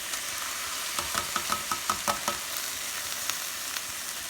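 Piquillo peppers and sofrito sizzle in a hot pan alongside onions, peppers and garlic, with a steady crackling fry and a quick run of scraping stir strokes close by.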